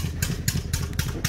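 Farm diesel engine running a water pump for irrigation, heard close as a rapid, regular chugging with sharp periodic bursts about four times a second over a low throb.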